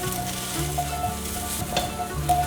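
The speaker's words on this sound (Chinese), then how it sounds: "让它煎个几秒后，又再继续翻炒" Taro stir-fries in a pan, a continuous close sizzle broken by short bursts of spatula tossing and scraping every second or so, with no voices over it.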